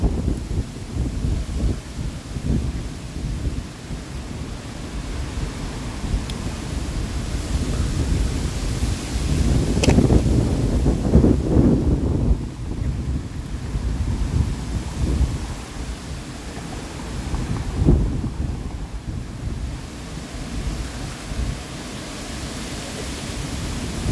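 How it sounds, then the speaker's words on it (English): Strong gusty wind buffeting the microphone in a big park, a loud rumbling roar that surges and eases, swelling hardest midway. "It is super windy."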